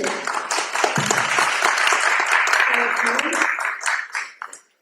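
Audience applause at a city council candidate forum fills the room with dense clapping that holds steady, then thins and fades out near the end.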